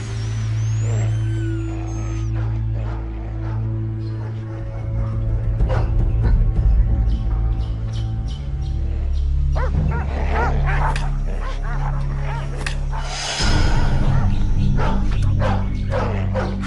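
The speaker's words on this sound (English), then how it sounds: "Hunting dogs. They smell her scent." A pack of hunting dogs barks, yips and whimpers excitedly in the wild, the calls loud and overlapping, over a steady low musical drone.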